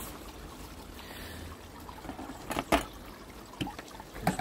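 Water trickling and dripping from a leak at a garden pond, a faint steady flow with a few louder splashy drips toward the end.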